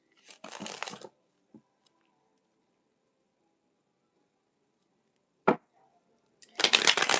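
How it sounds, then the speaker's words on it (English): Tarot cards being shuffled, short dry riffling bursts at the start and end with a brief crisp snap between, close and fairly quiet against near silence. "So Moon, shuffling for Moon"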